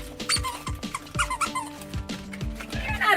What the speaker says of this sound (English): Everybody got a chew toy or a squeaky toy.